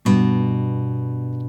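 Guitar strings struck together on A2 and E3, a single sharp close attack that rings and slowly decays as a clean sustained tone.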